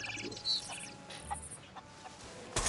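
Chicken clucking inside the pirate video game Sea of Thieves: a few short, moderately loud clucks and chirpy calls over a busy game background, ending in a sharp burst of noise.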